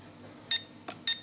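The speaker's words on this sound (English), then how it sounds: "you enter in headless mode, and this annoying beep is starting to sound" A SYMA X8W drone controller in headless mode gives two short, bright electronic beeps about half a second apart, loud against quiet background hiss, with a faint click between them.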